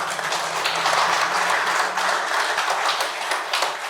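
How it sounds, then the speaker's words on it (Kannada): An audience at a talk on Shirdi Sai Baba's philosophy applauds, giving a dense, steady wash of clapping that runs unbroken from start to finish. "ಅಮೃತಗೊಂದು ಚಪ್ಪಾಳೆ."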